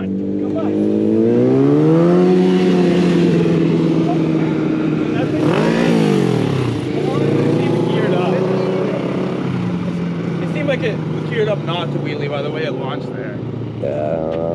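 A Kawasaki ZX-10R sport motorcycle revs hard and launches, its loud engine note rising and falling in pitch, close by, with people talking and shouting over it.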